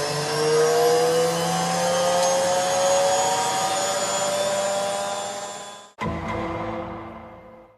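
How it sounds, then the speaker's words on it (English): A Numatic Basil NB200 vacuum cleaner runs in a carpeted bedroom with a loud, steady whining drone. Its pitch rises slowly, then the motor briefly cuts out and restarts at a lower, falling tone. "It's vacuuming time."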